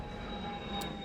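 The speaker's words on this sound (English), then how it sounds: "Plane passing by." An airplane passes overhead, a steady broadband engine roar that holds level across the short stretch and swells slightly near the end, with no voices.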